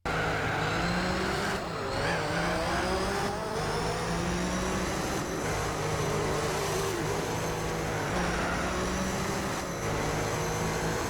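Racing cars in Gran Turismo 4 on PlayStation 2 produce a continuous, loud engine roar with shifting pitch and occasional tire noise, with no talking.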